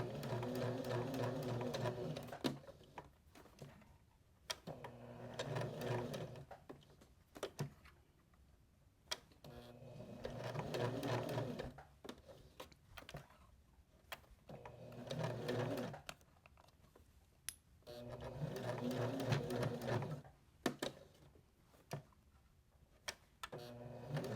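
A sewing machine stitches a small fabric car freshener in repeated runs of steady mechanical whirring, each a few seconds long, broken by short pauses and clicks as the fabric is lifted and turned.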